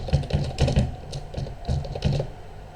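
Fingers type on a computer keyboard in short, uneven bursts of crisp key clicks, close and clear with no talking.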